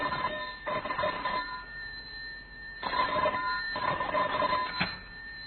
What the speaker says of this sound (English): the telephone rang in John Davis's office